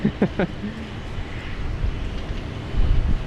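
Airplane heard at Sydney Airport in rainy weather, a steady broad roar of engine and wind noise holding throughout, swelling near the end, with a few brief voices at the start.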